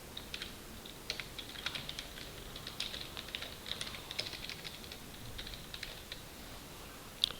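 Someone types a folder name on a computer keyboard, giving quick, light, irregular keystrokes that sound close but quiet, alone, ending with one firmer key press.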